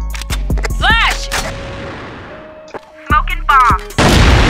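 Sharp gunshots crack in a burst in CrossFire, then a flashbang's ringing tone hangs over a dense rumbling wash before more shots and a loud blast hit near and close.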